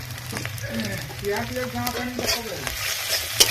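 Ginger paste fries in a pan with a close, steady sizzle and scraping stirs, while faint voices murmur underneath.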